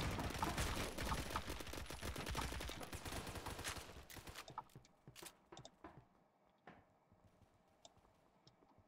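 Automatic AK-12 gunfire in a video game: a dense, loud burst of rapid shots for about four seconds, followed by scattered single shots and clicks that fade into quieter sounds.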